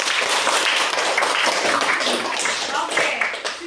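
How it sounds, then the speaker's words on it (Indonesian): A classroom of students claps for a classmate, a steady dense patter of many hands filling the whole stretch at close range, with voices mixed into the clapping. "Tepuk tangan dulu untuk si Royan."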